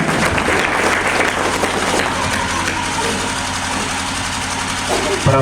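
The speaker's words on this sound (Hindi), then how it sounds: "जोरदार ताली आप लोग बजाएं, जोरदार ताली" An audience claps at a stage ceremony honoring volunteers, a dense sustained burst of applause that thins slightly toward the end, with a low engine-like hum underneath.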